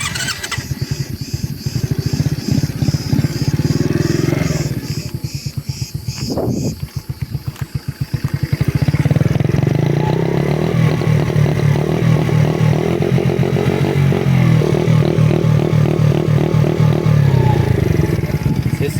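A Mondial 50 SFC mini motorcycle engine runs up close with a fast, steady putter, briefly dips and wavers, then settles into a louder, even idle.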